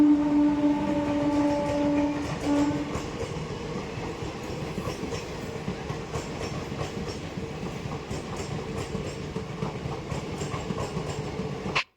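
A train runs steadily past at a station in India, its broad rumble and rail clatter continuous and fairly loud, with tonal horn or brake notes early on and no voices.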